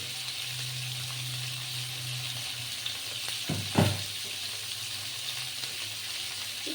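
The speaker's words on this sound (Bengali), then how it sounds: "এটা ততক্ষণই ভাজা হচ্ছে, আস্তে আস্তে লাল করে ভাজা হবে" Ingredients fry slowly in a pan with a soft, steady sizzle, while a low hum runs through the first half and a brief clatter lands midway, with no one speaking.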